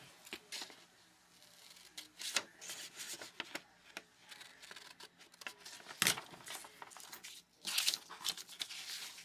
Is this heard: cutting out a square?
yes